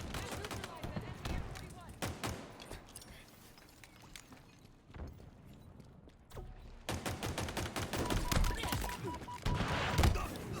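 Gunfire in Halo Infinite, rapid bursts of sharp shots, sparse in the middle and then dense and loud in the second half, with voices talking in between.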